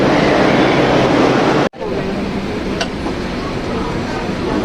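A metro train at a station gives a steady loud rumble and hiss. Partway through, a brief gap of silence breaks it, then the lower rumble continues with a faint click.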